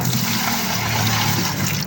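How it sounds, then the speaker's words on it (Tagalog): Water pours steadily into a bucket holding rice-washing water, a continuous close splashing fill that lasts throughout with no voices. "Tapos haluan muna natin ng tubig para puno, para dumami siya."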